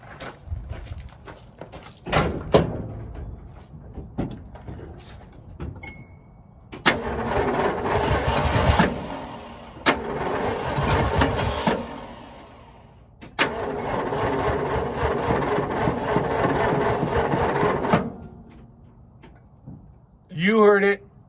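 A freshly rebuilt car engine, started for the first time in over a year, cranks a few times, catches, runs roughly for several seconds, dies, then fires again and holds a steady idle, with people talking nearby.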